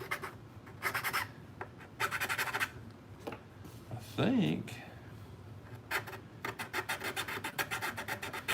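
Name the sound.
round file smoothing edges of a Mandalorian helmet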